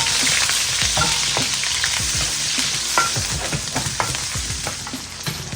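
Onion and garlic frying in oil in a large wok, a steady loud sizzle with frequent spatula scrapes and stirring clatter throughout, no talking.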